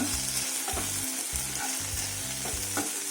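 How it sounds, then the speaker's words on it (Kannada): Ginger frying in a pan for mushroom pepper fry, a loud continuous sizzle with regular rhythmic stirring scrapes repeating several times, close up and without speech. "ಶುಂಠಿ ಚೆನ್ನಾಗಿ ಫ್ರೈ ಆಗಲಿ, ಅದ್ರದ್ದು ಹಸಿ ವಾಸನೆ ಹೋಗಬೇಕು."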